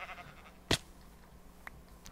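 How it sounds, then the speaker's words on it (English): A blocky sheep in Minecraft gives a short bleat at the start, quiet and close, followed by a sharp click and a faint later tick against a low hum. "I'm gonna kill this sheep."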